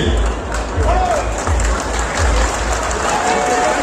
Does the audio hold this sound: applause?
yes